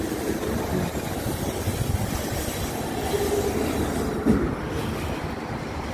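A CN train shunts at Southwark rail yard, giving a loud, continuous rumble of rolling wagons with clanks and brief wheel squeals, close by and without talk.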